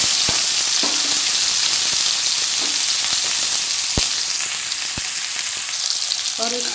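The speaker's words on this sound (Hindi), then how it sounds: "और इसको हमने जो है गोल्डन फ्राई करना है" Jackfruit pieces fry steadily in a large spoonful of hot oil for kathal sabji, a constant close sizzle with a few soft knocks of a spoon against the pan.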